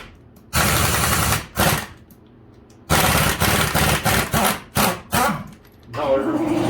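Plastic-bodied air impact gun rattling off rear wheel lug nuts on a Chevy K2500 diesel, in loud repeated hammering bursts of varying length separated by short pauses, with compressor-like hiss between.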